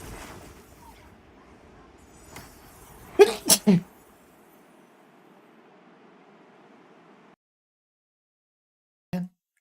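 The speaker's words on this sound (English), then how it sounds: "I tried to mute so you guys wouldn't have to listen to me sneeze" A close, loud sneeze bursts out as two or three sharp snorts in quick succession, followed by quiet room hiss and a brief click as a microphone cuts out.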